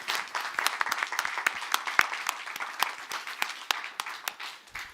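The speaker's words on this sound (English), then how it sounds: "a big round of applause for everybody." A conference audience applauds at the close of a session, an even patter of many clapping hands lasting about five seconds at moderate volume, with no talk over it.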